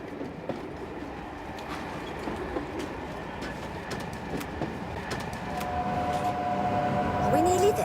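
A train runs along its rails with a continuous rumbling, rattling roll that grows slightly louder toward the end, joined by a brief high squeal.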